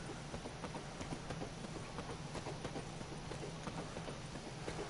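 Horse Roach in the video game Witcher 3 trotting, steady rhythmic hoof clip-clops repeating evenly and fairly faint, with a soft ambient bed beneath.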